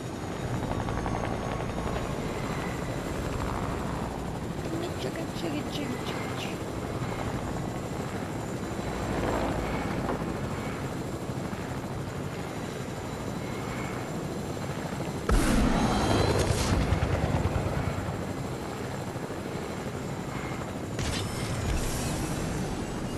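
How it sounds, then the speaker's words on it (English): Helicopter in Fortnite, a continuous rotor chop and engine drone over more than twenty seconds, steady and fairly close, with a few louder bursts of noise partway through. "There's a helicopter in there."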